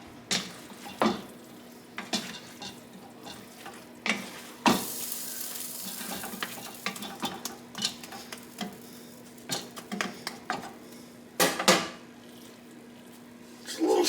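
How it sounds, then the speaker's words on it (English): Cornbread stuffing being mixed by hand in a bowl, a steady run of soft wet stirring and squelching with occasional sharper clicks and knocks against the bowl, close and continuous. "Kind of mix it up really good."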